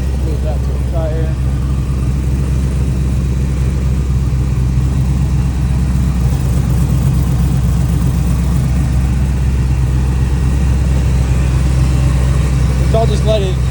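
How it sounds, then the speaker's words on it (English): An LS3 V8 in an RW1 rear-steer vehicle idles with the hood off, a loud, steady low rumble that runs the whole time, with some faint voices in the background. "So I'll just let it idle so you can see nothing overheats while we're looking at it"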